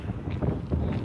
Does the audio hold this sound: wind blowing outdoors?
yes